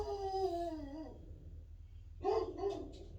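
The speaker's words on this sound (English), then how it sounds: "Don't know why the dog is barking." A dog lets out a drawn-out howling whine, then barks a few times nearby, moderately loud.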